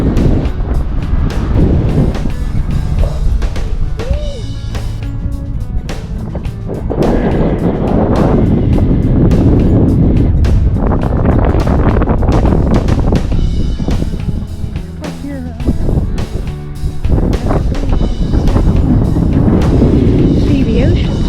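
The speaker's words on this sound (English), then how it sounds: "Very windy up here." Strong wind sweeps across the dunes at White Sands National Park in New Mexico, a loud, continuous buffeting roar against the microphone for the whole stretch, with voices faintly in the mix.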